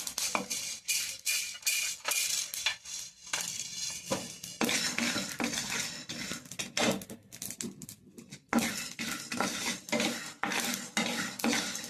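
Cumin and other seeds are dry roasted in a pan, with rhythmic scraping and rattling of a spatula against metal, seeds skittering in repeated quick strokes, close and fairly loud with no speech.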